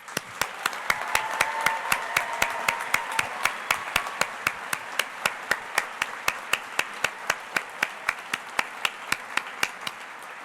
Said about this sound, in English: Will the audience please join me in one more round of applause?